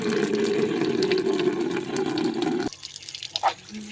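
Tap water runs steadily while kitchen containers and a lid are rinsed after scrubbing, then cuts off abruptly, leaving faint clatter and drips.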